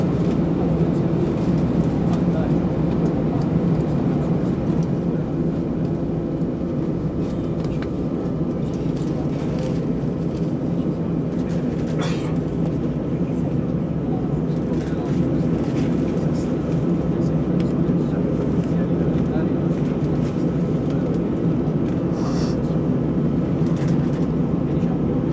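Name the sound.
Alitalia Airbus A320 cabin during takeoff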